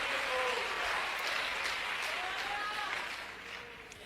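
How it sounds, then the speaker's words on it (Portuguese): Church congregation applauding during a sermon, a steady wash of clapping that fills the room and slowly fades toward the end, with a voice faintly present underneath. "E aí Jesus, se vocês querem aplaudi-lo, faça"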